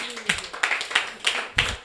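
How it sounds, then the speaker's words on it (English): Several people at an Igbo summer camp cooking session clap in a loose, uneven rhythm, with roughly eight sharp claps spread across a couple of seconds. "let's clap for her."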